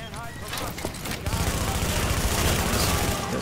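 Rapid assault rifle fire in The Division rattles as a dense, continuous burst that grows louder and heavier partway through, with scattered game effects before it.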